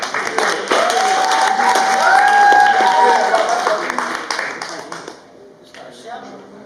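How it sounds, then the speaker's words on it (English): An open mic audience claps and applauds, a dense burst of hand claps that swells loud near the middle and then tapers away to near quiet, with some voices mixed in. "Clap her up again."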